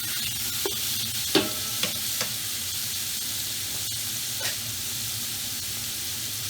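About 600 grams of diced beef chuck browns in olive oil in a pan, making a continuous loud sizzle and hiss with a few scraping stirs and utensil knocks along the way.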